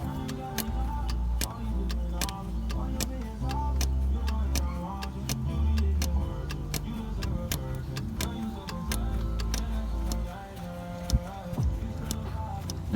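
Hand priming pump on the diesel filter base of a Chevy Silverado 3500 Duramax with a crank-no-start fuel leak, a rapid, steady run of close clicking strokes over a low mechanical hum, no talking.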